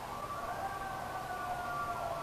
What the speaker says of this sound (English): an ambulance went by all at the same time